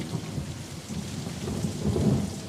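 A thunderstorm sound effect of heavy rain pours steadily with low rolling thunder rumbling beneath it and building toward the end, loud and continuous with no voices.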